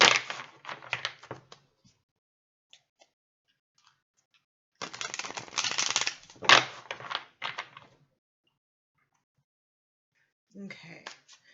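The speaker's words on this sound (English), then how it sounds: "I'm going to shuffle a few more times." Tarot cards shuffle in quick riffling bursts, one at the start, a longer stretch in the middle and a short one at the end, close by with silent gaps between.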